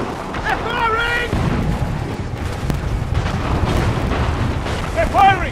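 Enemy cannon fire in Assassin's Creed III roars as a continuous low barrage of booms and rumbling blasts under urgent shouted voices.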